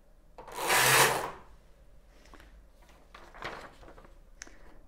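A Knittax knitting machine finishing a sock heel gives one loud rasping carriage sweep, then a few softer scraping and clicking passes close by.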